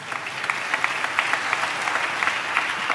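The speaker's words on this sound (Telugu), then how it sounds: "చప్పట్లు కొడుతూ స్తోత్రాలు చెప్దాం." Congregation clapping in praise during a Christmas church service, a dense, continuous round of hand claps with rhythmic surges, fairly loud and close, without speech over it.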